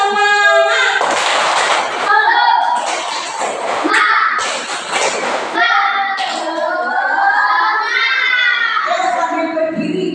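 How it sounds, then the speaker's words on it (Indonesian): Children clap and chant together in a lively rhythmic pattern, their voices loud and close, with a brief spoken lead-in at the start. "tepuk semangat"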